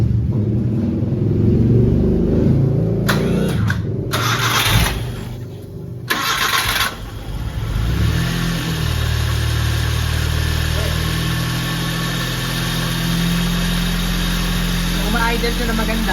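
A car engine with its MAP sensor removed cranks over and starts, then settles into a steady, loud idle rumble that continues to the end, with voices talking over the opening.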